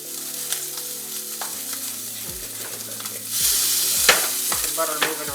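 Salmon pan-searing in butter for crispy salmon on garlic toast: a constant close sizzle that swells louder partway through, with spatula scrapes and taps as the butter is swirled around the pan.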